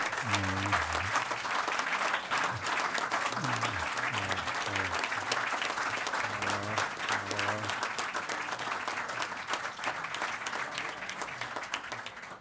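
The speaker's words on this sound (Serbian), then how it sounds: "legenda svetske košarke Boris Stanković, traje taj aplauz, traje, molim vas" Sustained applause from an audience at a basketball book promotion, dense steady clapping throughout, with a voice speaking over it early on.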